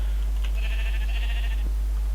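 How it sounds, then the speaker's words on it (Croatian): Black sheep in Minecraft bleating once in a drawn-out, wavering game bleat that stands alone against a quiet background, clear and close. "Ne, crna ovca, opet crna ovca"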